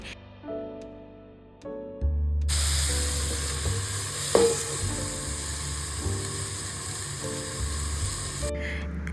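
Ridge gourd and mixed vegetables fry and get stirred in hot oil, a steady sizzle with scraping stir strokes and a brief clatter, fairly close, with soft background tones underneath.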